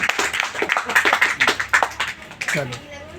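A crowd at a political party office claps in short, distinct bursts of hand claps, loosely rhythmic and close, with people talking over them before the clapping fades out near the end.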